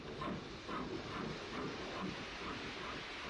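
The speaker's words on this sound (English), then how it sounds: "This train's a-rolling." A steam train in the 1972 horror film Horror Express rolls along with steady hiss and a rhythmic chuffing beat, a continuous, moderately quiet mechanical rumble.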